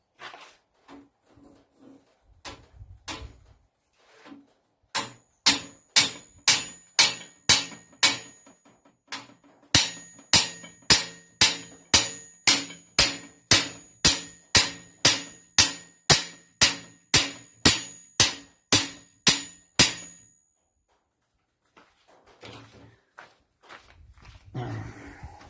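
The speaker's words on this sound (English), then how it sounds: "I'm going to hit it in with the hammer." A hammer striking a steel part onto the drive shaft of a Peugeot 404 bakkie pickup, a long run of sharp metallic blows in a steady, fast rhythm, close and loud, with quieter handling noises before and after.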